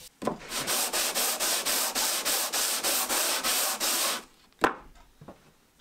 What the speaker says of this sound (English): this sanding block works brilliantly